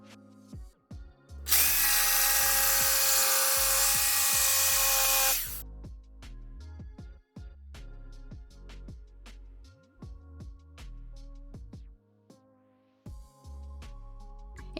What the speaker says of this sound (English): we're just going to be going in with this Black & Decker jigsaw